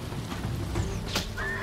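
A horse in the samurai video game Ghost of Tsushima whinnies once, a brief high call partway through over a steady background of game ambience.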